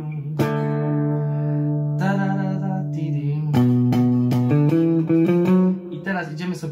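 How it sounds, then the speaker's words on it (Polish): Electric guitar playing power chords in a riff, with sustained distorted chords that shift pitch in the riff's pattern, loud and steady, alone with no talking. "Zagrajmy z power chordami wcześniejszymi."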